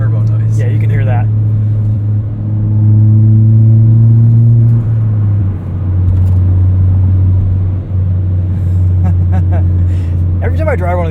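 Turbo whoosh and engine drone from a 2017 Ford Fiesta ST fitted with an intake, heard from inside during an autocross drive, a loud steady hum rising and easing while people talk over it.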